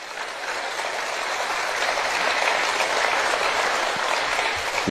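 A steady wash of audience applause at a public talk, dense and even clapping from a large crowd, sustained at full strength for the whole stretch without pause.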